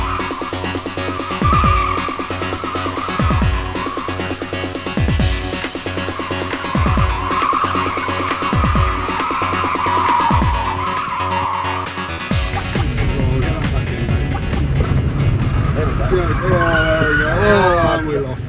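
A skid car slides and skids during driving practice, engine droning with repeated tire squeal bursts and a loud rumble, while people talk over it.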